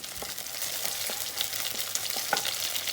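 Curry leaves crackle and sizzle in 1-2 tablespoons of hot coconut oil in a pan, a steady dense hiss with scattered sharp pops, close and loud, with no voices.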